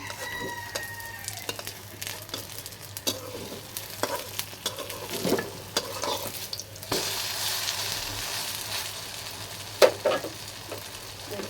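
Banana poa pitha made with ripe banana fries in hot oil with a soft, continuous sizzle, broken by scattered scraping clicks as pieces are turned, while a rooster crows faintly in the background near the start.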